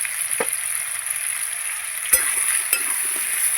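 Potatoes frying in a pan give a continuous close sizzle, broken by a few sharp clicks and scrapes of a utensil against the pan; no one speaks.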